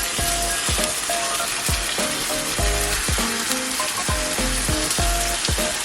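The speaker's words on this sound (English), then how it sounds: "you want to hear that sizzling straight away" Steak sizzles loudly in a hot pan with garlic and bay leaf for a Portuguese prego sandwich, a steady close frying hiss broken by repeated knocks and scrapes of the pan and utensil.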